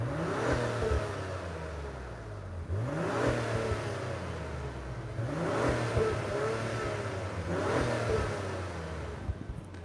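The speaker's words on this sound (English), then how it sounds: "I'm gonna rev it again just for fun." A 2021 Acura TLX Type S V6 engine revved repeatedly in Sport Plus mode, four rising bursts of revs spaced a few seconds apart, each falling back to a low idle, close and without talk.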